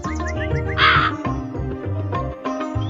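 A crow caws once, loud and sharp, in the Meena video game, set over busy game music with stepped tones and no voices.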